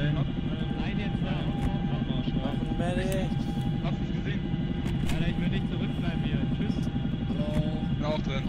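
A helicopter in the video game Arma 3 drones continuously with a steady rotor and engine rumble, loud and unbroken, while players talk over it.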